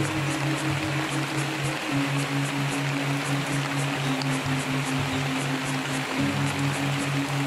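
Steady rain falls near a waterfall in Indonesia, heard from under a shelter as a dense, even hiss with a low drone underneath, constant and close.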